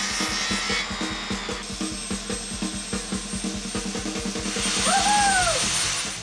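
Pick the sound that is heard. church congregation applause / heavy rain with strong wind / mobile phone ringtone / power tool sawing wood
power tool sawing wood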